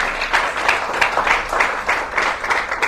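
Church congregation applause at a sermon, a loud close crowd clapping in rhythmic bursts, roughly evenly spaced beats sustained for a few seconds.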